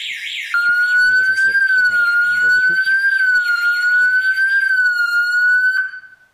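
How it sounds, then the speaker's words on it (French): An Ajax alarm siren blares during an intrusion test of a home security system, a loud steady electronic wail with warbling overtones lasting about five seconds before cutting off, while faint voices murmur underneath. "Donc vous allez voir là-bas la sirène qui va s'allumer."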